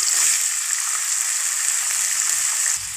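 Sangri beans frying in a hot pan of oil with turmeric and asafoetida, a loud steady close sizzle throughout that drops slightly near the end.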